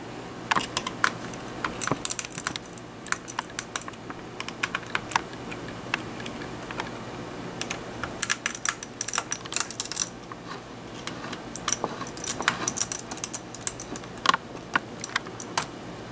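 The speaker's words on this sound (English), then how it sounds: "Now the only thing holding this down is these 4 screws, so we're going to take these off." Small screws being backed out of the heat sink on a Compaq Presario CQ57 laptop, heard as a steady run of close, light clicks and ticks of a screwdriver working metal screws, with no talking.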